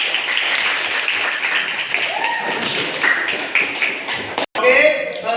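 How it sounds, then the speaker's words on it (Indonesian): Classroom applause from high school students after a group presentation, a dense steady wash of clapping mixed with chatter and voices, briefly cut off near the end. "mantap, tepuk tangan"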